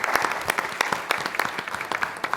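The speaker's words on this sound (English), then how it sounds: "Let's give them a round of applause." Dense audience applause at a policy forum on economic justice, many hands clapping steadily and fairly loud for a couple of seconds with no voices on top.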